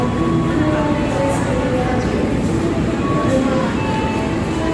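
Sri Tanjung passenger train pulling away from a station platform, a steady loud rumble of rolling cars and engine drone filling the whole stretch, with faint station voices in the background.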